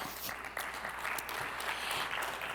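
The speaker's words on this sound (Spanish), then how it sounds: "Un aplauso, por favor." Audience applause at an institutional foundations forum in Spain, a dense burst of clapping from a seated crowd that fills the short moment at a fairly even level.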